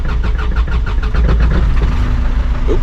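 A truck engine with a stuck exhaust brake cranks and catches, running loud and close with a rough, pulsing low rumble throughout.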